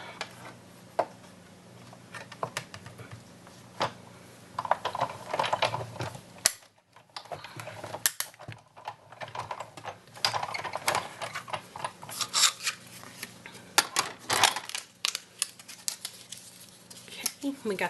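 A manual die-cutting machine for card making is cranked as cutting plates pass through, giving irregular clicking and grinding rattles in bursts, with a person talking intermittently.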